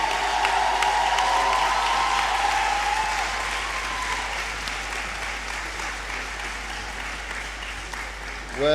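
Sustained audience applause at a university congregation ceremony, loud and steady from the start and easing off slightly toward the end, with faint voices mixed in.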